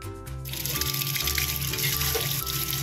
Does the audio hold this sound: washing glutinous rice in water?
yes